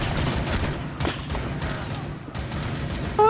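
Rapid bursts of rifle fire from a Rainbow Six Siege match crack repeatedly at close range, several sharp shots spread across the moment over a busy game background.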